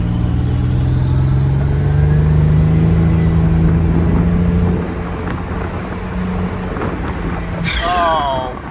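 GMC Syclone truck engine revving at half throttle, a loud, close growl that climbs steadily in pitch and then eases off, with a voice talking over it.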